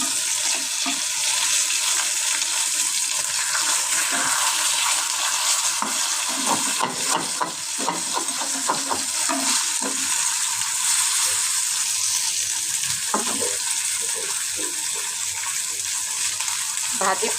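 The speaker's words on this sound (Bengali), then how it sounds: "এই তো মাছ ভাজি করতেছি" Fish frying in a pan for a home-cooked lunch, a steady loud sizzle running throughout with scattered crackles and pops, plus occasional clinks of a utensil.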